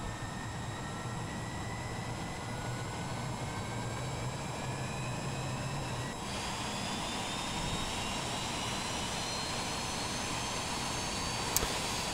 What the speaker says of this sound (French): On appuie sur le starter du moteur qui est ici.